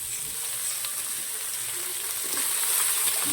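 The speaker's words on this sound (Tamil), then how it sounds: "4 வெங்காயம் வெட்டிட்டோம். இப்போ கடாயில் போடுறோம்." Four chopped onions frying in hot oil in a kadai for mutton gravy, a close, constant crackling sizzle with occasional stirring scrapes, growing a little louder toward the end.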